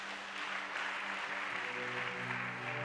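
A church congregation applauds Jesus during a French-language worship service, a sustained wash of many hands clapping at moderate distance, steady and unbroken, with faint tonal hum beneath.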